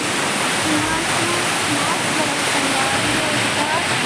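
Water rushing and falling at Amarkantak, a loud continuous broadband roar close by, with a voice faintly mixed into the steady flow.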